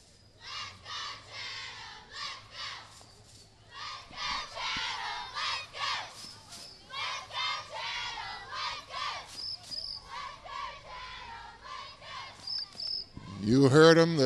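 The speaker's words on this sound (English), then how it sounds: "The Chatham cheerleaders are cheering Chatham on" Chatham Elementary School cheerleaders shout and chant loudly at a Christmas parade, a steady run of rhythmic young voices over crowd noise, with a brief burst of louder shouting at the end.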